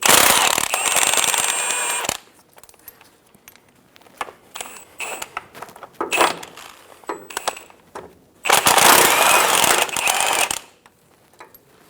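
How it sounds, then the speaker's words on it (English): Bolts on the differential mounting bracket of a 2014-2018 Chevrolet Silverado 1500 being worked loose with an 18mm socket wrench, heard as bursts of close metallic ratcheting clicks and clatter separated by quieter gaps. "we're going to remove the bolts for the bracket on either side of the axle using an 18mm socket"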